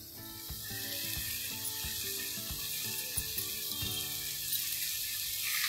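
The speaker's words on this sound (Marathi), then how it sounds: "आता ही साखर टाकून चांगला परतायचा" Grated carrot cooked with malai and sugar sizzles steadily in a small pan while being stirred, with occasional scraping clicks of the spoon, close and continuous with no talking.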